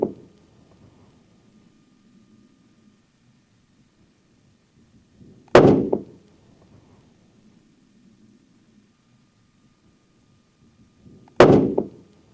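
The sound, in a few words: CVA Cascade rifle shots with Federal Fusion bonded soft point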